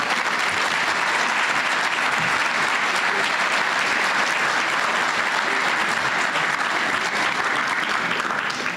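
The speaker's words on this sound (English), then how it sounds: "Could we actually just keep that applause going" Sustained audience applause fills a room at a YouthConnect community breakfast event, a dense, steady clapping from a large crowd that carries on without pause throughout.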